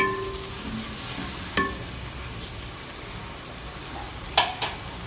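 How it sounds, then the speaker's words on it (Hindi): Onion, ginger and garlic fry in a pan, a steady close sizzle with a couple of sharp clicks from stirring. "अच्छे से भूने, बहुत ही अच्छी खुशबू आ रही है अदरक लहसुन की और प्याज के भुनने की।"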